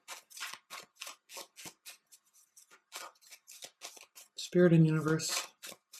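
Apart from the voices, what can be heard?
shuffling tarot cards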